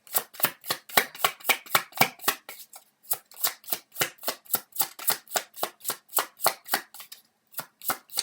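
Tarot cards being shuffled by hand, a fast regular run of crisp close card snaps and riffles in quick succession, with a brief pause near the end before resuming.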